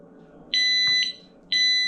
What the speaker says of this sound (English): And finish it off is the heat detector in the kitchen, this guy up here.